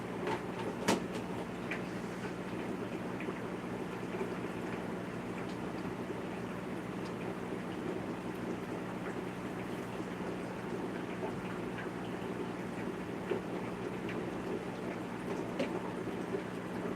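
Air pump bubbling water inside a plant cloner, a steady, continuous low wash of bubbles and pump hum that runs unbroken at an even, moderate level with no talking.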